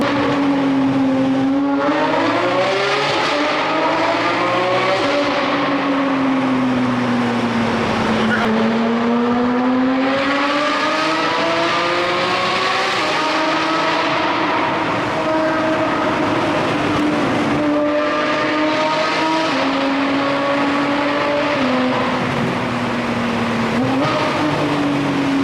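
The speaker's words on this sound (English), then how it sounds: "I'm about to go through a tunnel with it just so you can hear like just how loud it is." A loud sports car revs and accelerates hard through a tunnel, its engine note climbing and falling in sweeping harmonic waves with heavy reverberation, steady and close throughout; a voice is briefly audible beneath the roar.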